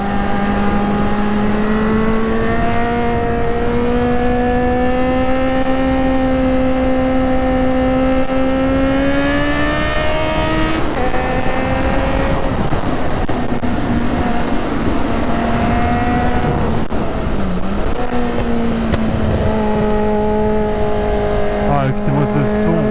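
Kawasaki Z800e motorcycle engine revving and pulling through gears while riding, loud and close with rising whining tones that drop at each shift, continuous wind noise throughout.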